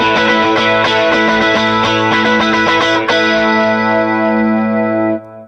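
A lush, clean 80s-style chorus from a Mobius pedal on electric guitar, played as the part for a song: quick strummed chords blend into a sustained, shimmering ring that fades out. Loud and close, with no talking.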